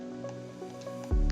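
A Minecraft survival game plays its bucket-filling effect as water is scooped from an infinite water source: a short splashing gulp near the end after quiet background music, with no speech.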